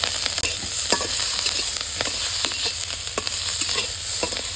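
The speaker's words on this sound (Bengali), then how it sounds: "এখন আমি পেঁয়াজ ভাজে নেবো, পেঁয়াজ দিয়ে দিলাম।" Onions frying in a pan in a village kitchen, a strong steady sizzle broken by frequent quick spatula stirs and scrapes throughout, close and loud with no talking.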